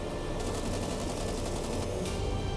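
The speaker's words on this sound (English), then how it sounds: "They're shooting 303s, and we've got 20mm cannons, as well as machine guns." Aircraft machine guns, .303s and 20mm cannons, rattle in rapid continuous bursts during an air attack in the naval combat game War on the Sea, over a constant roar of engines.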